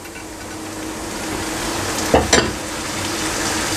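Tomatoes and masala for mutton keema karahi sizzle steadily in a hot pan, with a couple of sharp scraping stirs of a spoon cutting through the continuous frying hiss.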